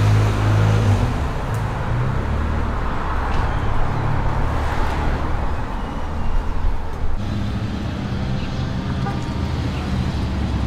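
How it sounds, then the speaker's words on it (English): Cars rolling through downtown Julian, a small mountain town: continuous close traffic roar with engines passing one after another, loud and steady throughout. "All these cars are coming from Ramona, and they end up right in downtown of Julian"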